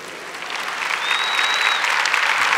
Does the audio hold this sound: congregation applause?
yes